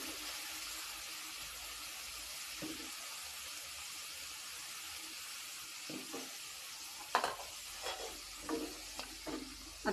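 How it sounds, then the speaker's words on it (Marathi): Mixed vegetables are turned in a pan over a quiet background hiss, with soft scraping strokes that grow more frequent and a little louder toward the end. "आता हे मिक्स करून घ्यायचंय"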